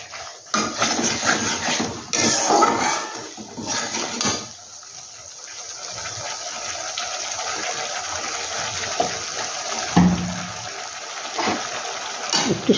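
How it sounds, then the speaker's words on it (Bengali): Water poured into a cooking pan while making a bottle gourd recipe, a close sizzling splash and rushing pour that fades to a softer steady hiss of liquid in the pan. "একটু সামান্য জল দিয়ে দিচ্ছি।"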